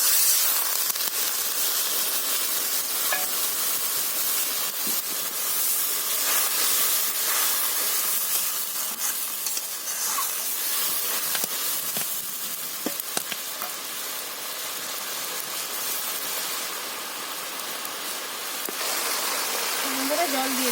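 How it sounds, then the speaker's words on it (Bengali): Chili powder sizzles in a hot pan of fish curry in a village home kitchen, a steady close frying hiss that runs throughout with occasional stirring scrapes. "তো বন্ধুরা লঙ্কা গুঁড়ো দিয়ে দিলাম।"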